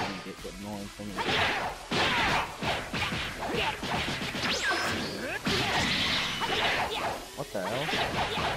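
Rapid fighting-game attack effects from Towako: Daughter of Towa, with repeated whooshes, swishes and sharp impact thwacks in a dense, loud sequence, layered with occasional tonal sweeps.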